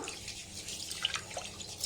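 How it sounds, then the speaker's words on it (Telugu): Two cups of rice being washed by hand in water, giving a steady close sloshing and swishing of water with small drips throughout. "ఇప్పుడు ఇందులో వాటర్ పోసి శుభ్రంగా 2 సార్లు కడగండి."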